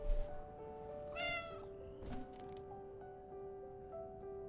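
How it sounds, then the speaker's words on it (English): A cat meows close by in one clear, rising call, with a softer meow after it over a low steady background hum. "Kitty."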